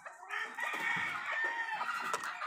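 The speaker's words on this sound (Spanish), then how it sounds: "50 gallinos, 60 gallinas tenemos seleccionadas" Hens and roosters on a breeding farm cluck and crow continuously at close range, several birds overlapping in a busy, steady flock chorus with no talking.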